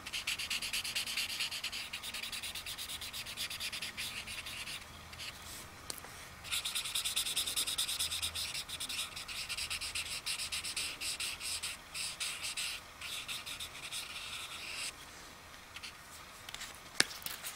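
Alcohol markers and a colourless blender rubbed over paper to merge several colour gradients, a continuous scratchy rasping of felt tips against the sheet that goes on steadily throughout without talk.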